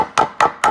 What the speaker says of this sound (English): put a flathead, tap it in with a hammer